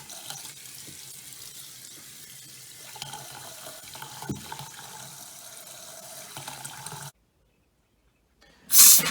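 Water gushes steadily from a camper's double-sprayer faucet as the lines are flushed, a continuous mid-level rush that cuts off abruptly near the end before a brief loud burst.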